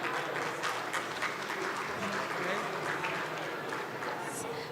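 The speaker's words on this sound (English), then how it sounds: "Please give him a round of applause." A conference audience at a medical session applauds to welcome the session chair, a consultant neonatologist, with a steady wash of clapping that stays fairly even and moderately distant throughout, with murmuring voices faintly mixed in.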